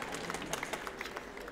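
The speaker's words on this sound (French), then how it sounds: "On peut l'applaudir." A small audience at a Swiss pastry team event claps in a brief, dense patter of hands, fairly soft and even throughout.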